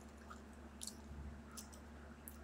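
Close-up chewing of Crunchy Cookie M&M's, soft crunches and wet mouth squishes in a few brief bursts over a low steady hum, no talking.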